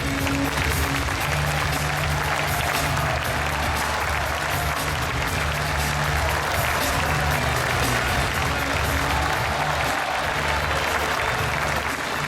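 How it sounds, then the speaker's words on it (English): Dense, steady applause from a large audience at the closing ceremony of the 93rd Lions Clubs International Convention in Sydney, loud and sustained throughout with crowd murmur underneath. "Big applause to Ed, and welcome to our family."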